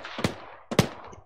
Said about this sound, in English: he just shot a rifle grenade